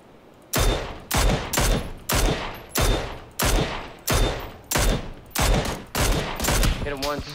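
Rapid gunfire in a hillside video game shootout by a road: about ten sharp, loud bursts in a steady rhythm, roughly one every 0.7 seconds, heard alone with no voices.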